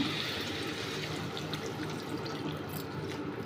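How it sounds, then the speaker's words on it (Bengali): Water runs and splashes steadily into a pan of aloo posto, Bankura style, a soft, continuous trickle heard close with no voices. "এরপরে আমি জল দিয়ে দিচ্ছি"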